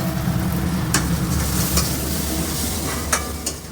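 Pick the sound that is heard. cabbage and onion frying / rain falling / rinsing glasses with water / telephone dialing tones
cabbage and onion frying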